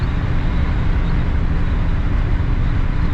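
A 1956 Cadillac Coupe DeVille drives on the road, heard from inside as a steady, loud low rumble of engine and road noise with no break.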